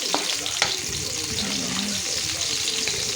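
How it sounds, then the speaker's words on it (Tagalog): Garlic, ginger and onion sauté in a pan with a steady sizzle, stirred now and then with a couple of louder clinks near the start, and nobody speaks. "gisa-gisa lang guys ang mga ingredients"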